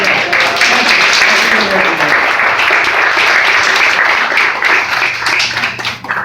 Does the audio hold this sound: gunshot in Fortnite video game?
no